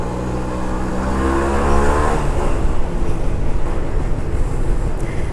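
A Kinetic Honda 100cc two-stroke scooter engine revs up, its buzzing pitch rising and then settling into a rough, steady note under wind buffeting, close and loud.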